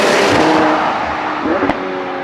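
A McLaren 720S fitted with a Novitec exhaust but no sport exhaust system drones steadily at close range, with a brief rev and a short mechanical click near the end.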